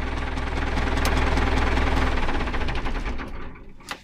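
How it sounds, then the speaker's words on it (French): A vehicle engine idles with a rough, knocking chug at close range, then dies away as it is switched off near the end. "Est-ce que j'éteins le moteur?"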